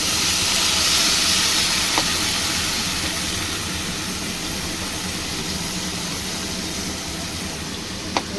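Green chilies tossed into a hot pan while cooking eggplant with hilsa fish sizzle with a constant broad steamy hiss that runs evenly throughout at moderate loudness.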